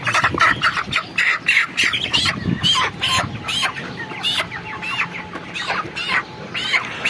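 Broiler chickens about a month old cluck and squawk together on a poultry farm. The calls are busy and overlapping, with many birds close by and no talking.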